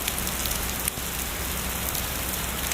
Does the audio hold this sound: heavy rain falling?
yes